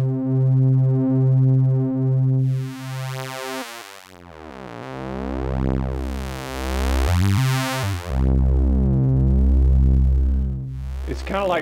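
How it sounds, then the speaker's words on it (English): Modular synth sequence morphing between state variable filter types: a repeating pulsed synth pattern whose tone sweeps from bright and buzzy to hollow and muffled, loud and continuous throughout. "It's kind of like morphing between the different filter types."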